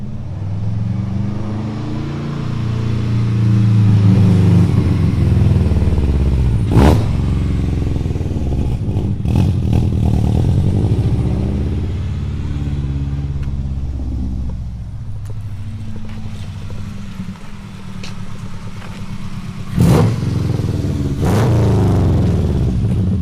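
A Subaru GC8 fitted with a test pipe rumbles loudly as it drives up, its deep engine note swelling and easing with a few sharp clattering bumps, including a crossing over railroad tracks, and no talking.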